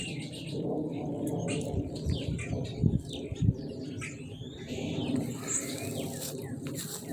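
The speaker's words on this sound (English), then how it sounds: "Look at all these birds up here." Birds chirp and coo in a backyard, with scattered short calls at moderate distance over steady low background noise and a couple of louder thumps.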